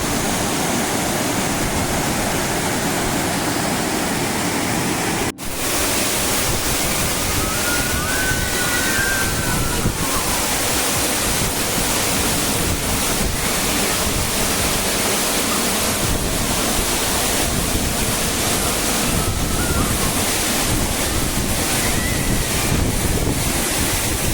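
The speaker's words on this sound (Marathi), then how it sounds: "सत्तर एक फुटावर ना खाली कोसळत आहे धबधबो" Continuous heavy roar of Manche waterfall in Devgad, dropping about seventy feet, dense and unbroken, with a brief knock near the start and occasional faint chirps over the rushing water.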